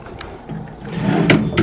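A hotel room drawer slides open with a short wooden scraping rumble and a soft knock at the end, close and clear.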